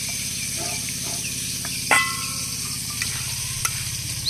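Bay leaf and black cumin sizzling in hot mustard oil: a steady fine crackling hiss with small pops and a brief louder spatter, close and continuous, with no talking.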